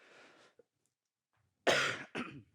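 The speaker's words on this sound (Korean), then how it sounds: "지금 계속 막 기침 나오고 하는 게 감기 걸린 게 아니라 편도 그것 때문에 그래요" Two harsh, loud coughs close to the microphone from a speaker with swollen tonsils, following a brief stretch of voice and a quiet pause.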